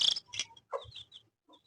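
A hen clucks in short close bursts, several quick calls across under two seconds with brief gaps, loud at first and then fainter.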